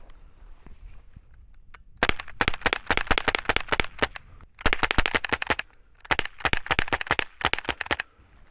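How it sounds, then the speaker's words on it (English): Kvintor Phantom airgun pellets burst against a concrete wall in rapid volleys of sharp cracks, several quick bursts of bangs separated by short pauses, loud and close with no talking. "This should give a good demonstration of the flash and bang of these Kvintor phantoms."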